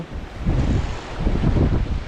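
Strong wind buffets the microphone in gusty low rumbles while fishing, with a rough roar rising and easing over a couple of seconds.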